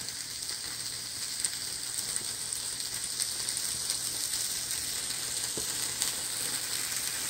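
Bacon sizzles and fries steadily in a pan for breakfast country gravy, a dense continuous crackle at close range with no talking.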